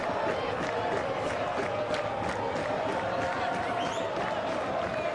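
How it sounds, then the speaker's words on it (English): Stadium crowd at Keyworth rising and cheering during stoppage time of a Detroit City FC versus Loudoun United soccer match, a steady, broad roar with scattered claps and shouts, a commentator talking over it. "Crowd coming to their feet here at Keyworth"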